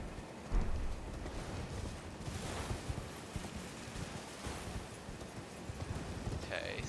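Horse hooves clip-clopping in Elden Ring, a quiet rhythmic trot of steady hoof beats under faint game ambience, with a brief louder thump near the start.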